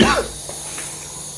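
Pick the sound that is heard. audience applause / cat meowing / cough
cough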